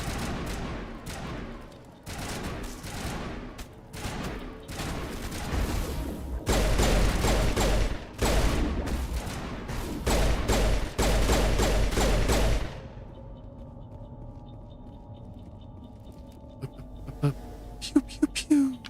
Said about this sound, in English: These weapons sound so wimpy.